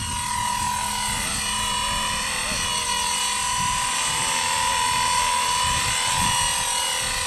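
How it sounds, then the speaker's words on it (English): A Blade 230 S Smart RC helicopter flies nearby with a steady high-pitched rotor and motor whine, holding a constant loud drone with slight pitch wobbles throughout. "the Smart helicopter is such a good helicopter"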